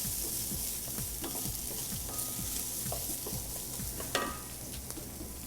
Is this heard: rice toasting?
yes